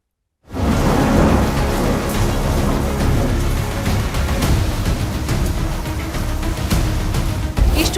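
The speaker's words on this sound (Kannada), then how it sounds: "ಬಿಟ್ಟು ಬಿಡದೆ ಮಳೆ ಸುರಿತಾ ಇದ್ದು" Heavy rain pours down steadily in northern Karnataka, India, with deep rumbles of thunder rolling underneath, loud and continuous from start to finish.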